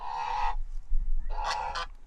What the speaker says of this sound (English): Fussy geese, fussy.